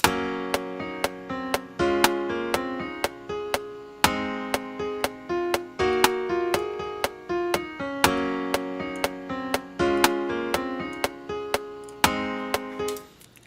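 Humanized eighth-note chords programmed in Propellerhead Reason play in a steady, slightly loose rhythm, with a sharp percussive click on each beat under sustained harmonic tones, alone and without talk.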